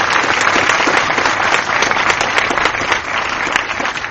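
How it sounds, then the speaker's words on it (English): An audience at a film Q&A for If Beale Street Could Talk claps in loud, dense, continuous applause that holds steady throughout. "Let's give a round of applause for this amazing cast"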